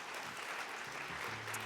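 A church congregation at a Sunday worship service applauds as a member comes forward, with steady, faint clapping throughout.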